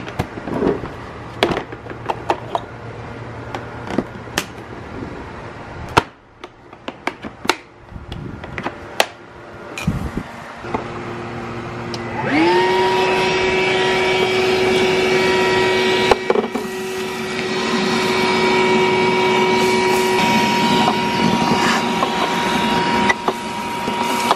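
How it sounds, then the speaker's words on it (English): A Milwaukee vacuum cleaner sucks dirt from inside a car, its steady motor whine rising after scattered knocks and handling noises, then running continuously and loud with a shifting pitch as the nozzle moves. "our trusty Milwaukee vacuum"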